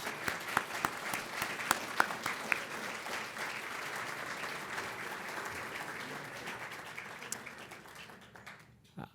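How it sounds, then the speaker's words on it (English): A seated audience at a lecture event gives a warm round of applause, a full, steady clatter of many hands with a few sharper claps standing out, tapering off toward the end. "So please join me in a round of applause."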